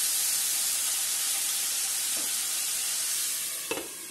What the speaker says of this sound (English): Give it a toss from time to time.